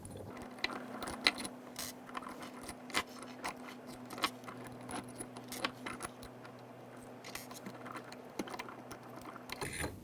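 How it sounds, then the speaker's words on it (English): Small metal washers being taken off electrochemical cell hardware, giving a steady run of light metallic clinks and jangles over a constant low hum, close and fairly quiet. "all the washers have now been removed"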